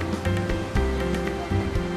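Sea waves washing onto a beach lined with karst limestone rock, a steady surf wash with soft recurring surges and a faint low hum underneath, no speech.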